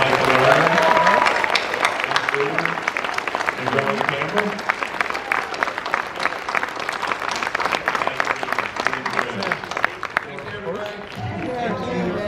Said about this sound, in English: ladies and gentlemen, please let's have a big round of applause for Lerner